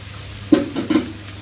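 Spice masala sautéing in a pan for village-style brinjal chorchori: a low, steady sizzle broken by two quick stirring scrapes close by, with no talking.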